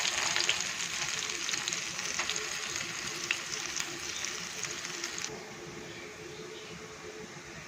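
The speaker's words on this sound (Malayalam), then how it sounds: "കടുക് പൊട്ടിച്ചതിലേക്ക് ഞാൻ ഇത് ഒഴിച്ചു കൊടുത്തെന്നുള്ളൂ കേട്ടോ." Ground coconut, for a chutney with urad dal and chana dal, poured into a mustard-seed tempering crackling in the pan: a steady close sizzle that runs for about five seconds, then eases to a softer hiss.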